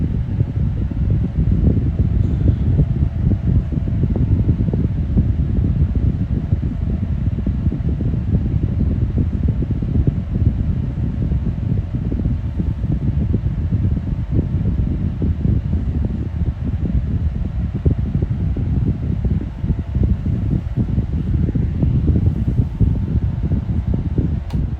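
Steady, loud whooshing drone of a 2018 Holmes box fan running on high speed, a continuous broadband rush of air with constant level throughout and no talking.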